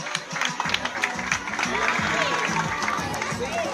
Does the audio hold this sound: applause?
yes